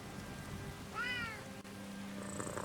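A cat in the video game Skyrim lets out a single short meow over steady background ambience, fairly faint and unaccompanied by speech.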